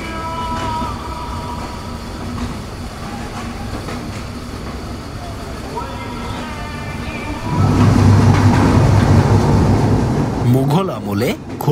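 The Jahanabad Express intercity train rumbles along from Khulna toward Dhaka, a steady rolling drone heard from inside, swelling louder with clattering wheels near the end.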